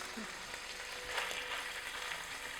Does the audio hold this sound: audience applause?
no